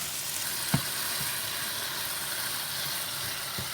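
Chicken cooking in a pan for a gluten-free chicken Alfredo, a constant, even sizzle close by, with a couple of faint knocks and no talking.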